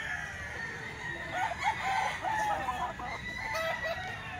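A rooster crows faintly at a distance, with clucks and farmyard fowl noise around it in the background.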